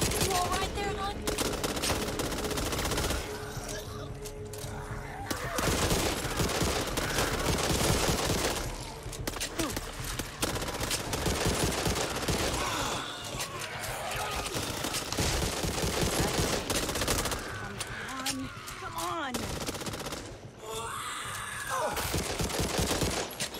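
Dense, rapid bursts of automatic gunfire and overlapping shots from the co-op zombie shooter Back 4 Blood crackle almost continuously, loud and close, with a few short lulls.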